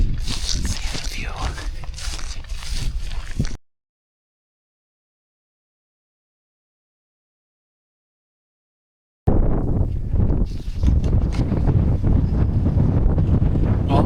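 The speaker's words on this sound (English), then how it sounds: "it's just too windy out here" Strong wind buffets the microphone outdoors in an open field where turkey decoys are set out, a loud steady roar broken by a silent gap in the middle.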